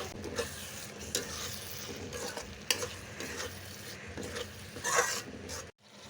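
Ginger garlic paste frying with onion in a pan for a crab curry: a steady close sizzle broken by repeated scraping stirs of a spoon against the pan, with no talk.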